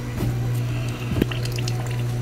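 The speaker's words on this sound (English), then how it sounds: "Let's turn on the water." Water starting to flow through a homemade water-cooled air conditioner loop with a hot water block, a steady mid-level trickle and slosh with a strong low hum running underneath and a few brief splashy bursts.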